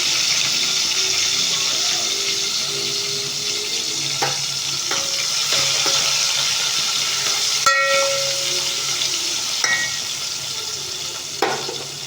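Five or six green chillies fry in a pan of hot oil while khichdi is being made. The sizzle is steady and moderate, with occasional clinks and stirring knocks and no speech.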